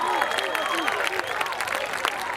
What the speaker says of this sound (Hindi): तालियां बजाते रहिए अपने महबूब शायर के लिए